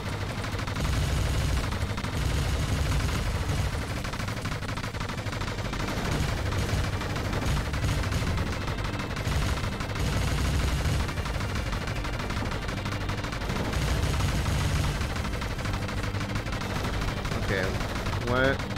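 Continuous rapid gunfire in the video game Panzer Dragoon Remake: dense, loud, sustained shooting with heavy low rumbling that runs without a break, blended with game sounds.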